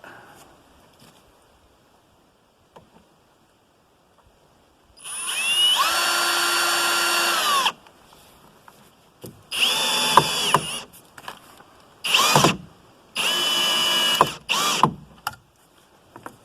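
A power drill drives Torx screws with fat heads through a new tarp at an elk camp wall tent, giving four loud close whirring bursts of a few seconds each, separated by quiet pauses.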